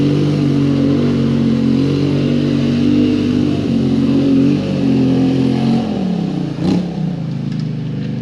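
A Polaris Sportsman High Lifter ATV churns through mud with its engine revving in a loud, steady, close drone, briefly easing and dipping near the end before picking up again.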